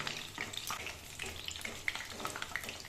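Butter fish fries in hot oil in a pan, a steady, fairly quiet crackling sizzle with spitting pops as more oil is poured over the top of the fish.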